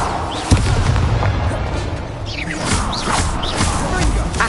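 The Incendio fire spell cast in Hogwarts Legacy, a loud whooshing burst with a sharp crack at the start and roaring, crackling flame that carries through the rest of the moment.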